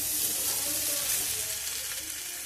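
Washed flattened rice (chire) fries in a pan with other ingredients for chire pulao, giving a steady, close hiss and sizzle throughout with no talking.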